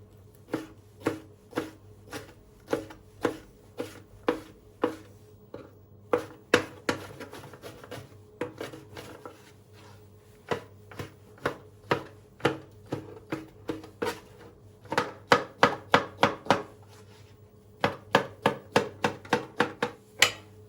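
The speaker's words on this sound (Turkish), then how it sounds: "Soğanı doğrarken dikkatli olun." A knife chops onion steadily on a cutting board, sharp repeated knocks in uneven bursts with brief pauses, close and fairly loud.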